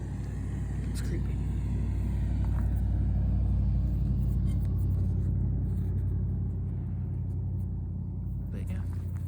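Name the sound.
funny looking truck engine rumbling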